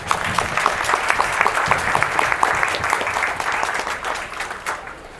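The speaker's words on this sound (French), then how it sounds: "Je vous demande de les applaudir." A church congregation applauds during a thanksgiving mass, a dense, steady wash of many hands clapping at a fairly loud level that holds for several seconds before easing slightly at the end.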